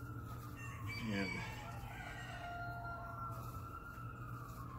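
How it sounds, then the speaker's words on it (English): Faint, distant rooster crowing rises over a low background hum, with a siren tone sliding in the distance. "I hear chickens, roosters"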